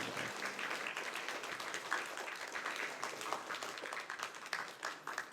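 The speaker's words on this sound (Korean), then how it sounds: "우리 성도님들 박수 부탁드리겠습니다" A church congregation at a Korean Sunday morning worship service applauds, a steady patter of many hands clapping from a moderate distance, sustained for several seconds without speech.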